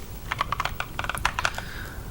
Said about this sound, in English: The keyboard sounds good.